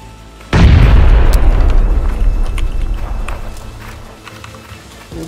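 Grenade blast in PUBG (Battlegrounds): one loud, deep boom bursting in close, then a long rumbling decay that fades over several seconds.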